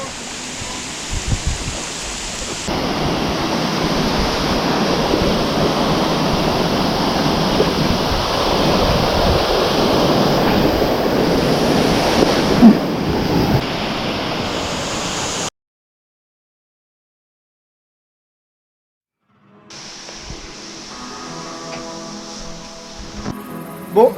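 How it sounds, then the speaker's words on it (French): A waterfall on the River Kwai in Thailand roars as a loud, steady broadband rush for about fifteen seconds, breaks off into silence, then resumes more faintly beside other sounds. "Comparé aux cascades en Nouvelle-Zélande, c'est pas un truc de ouf."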